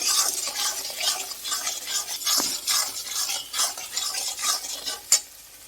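Masala with chopped tomato and sugar being fried and stirred in a pan, with busy scraping and stirring strokes over a soft sizzle and a sharp utensil clink near the end.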